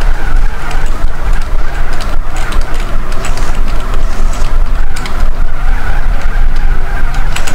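Car drifting and skidding in GTA San Andreas on a drift course: steady loud engine roar with continuous tire squeal and skid noise throughout, no voices.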